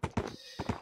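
Short horse sounds from a Minecraft Hunger Games match, a few quick thudding bursts with a brief gap, close and loud.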